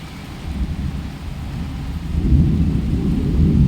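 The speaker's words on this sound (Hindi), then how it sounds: "बहुत तेज़ बारिश है" Deep, continuous thunder rumbling with a dense wash of heavy rain, swelling louder in the second half, no voices present.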